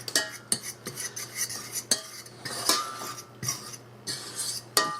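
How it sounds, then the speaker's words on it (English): A spoon stirs a flour roux in a pan, with repeated clicks and scrapes of metal against the pan coming in uneven bursts, close up and without any voices. "Keep stirring it till you get the lumps out."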